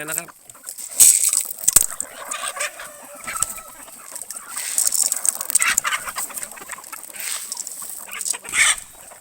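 A flock of about sixty fighting cocks and hens, eleven to twelve months old and younger, clucks and squawks busily at a morning corn feeding, with a rooster crowing amid steady nearby bird calls.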